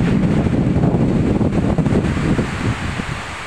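Strong wind blowing outdoors, a loud continuous roar buffeting the microphone with no break and no voices.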